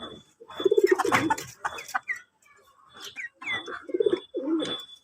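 Hami chickens, also called Pakistani cocks, cluck and coo nearby in a yard, with several short bursts of throaty calls separated by brief quiet gaps.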